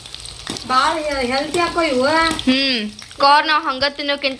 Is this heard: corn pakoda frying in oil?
yes